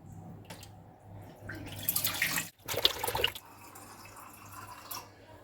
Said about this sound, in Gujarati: આવી જ રીતે બે ત્રણ વખત આપણે ઘસીને ધોઈ લઈએ